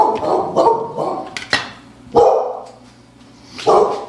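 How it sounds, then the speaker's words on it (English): A dog barks repeatedly nearby at people walking by, loud sharp woofs spaced irregularly, with a couple of higher yips between them. "decided to bark at the people walking by"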